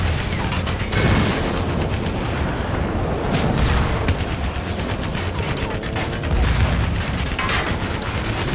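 Dense, continuous gunfire and booming tank cannon shots from the video game Renegade Ops, on the Furnace mission, loud and sustained with repeated bursts and heavy thuds throughout.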